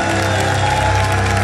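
A church congregation cheers and applauds at worship, a steady loud wash of clapping and voices filling the room throughout with no break.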